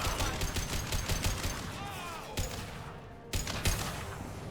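Rapid automatic gunfire in the video game Mass Effect 2, sustained crackling volleys with brief pauses and sharp single shots, loud and close, with voices faintly underneath.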